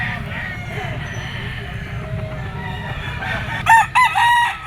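A lemon, yellow-legged fighting stag at a busy pet market crows loudly near the end, against a background of constant crowd murmur and someone talking.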